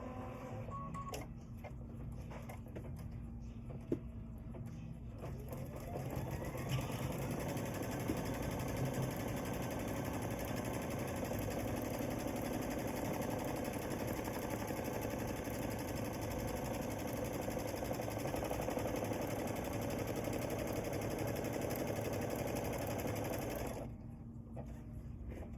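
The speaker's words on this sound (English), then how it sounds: "I'm going to stitch my first step one, which is the placement stitch for my first piece of cork." An embroidery machine runs a placement stitch for a cork piece, a steady rapid mechanical whir and clatter that holds constant for over fifteen seconds at close range, then stops near the end.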